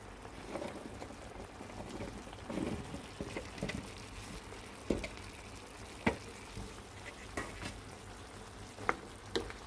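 Chicken with carrots and potatoes frying in a pan, a soft steady sizzle broken by scattered clinks and scrapes of a utensil stirring, no voices.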